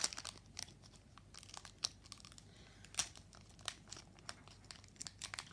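Crinkly plastic foil of a Pokémon card booster pack from the Éclipse Cosmique SL12 set being torn open, a faint run of close crackling and tearing bursts with several sharper rips.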